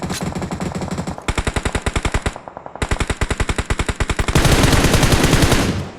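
Loud bursts of automatic rifle fire in PUBG Mobile, several rapid strings of evenly spaced shots separated by short pauses, ending in a dense continuous volley, close and without voices.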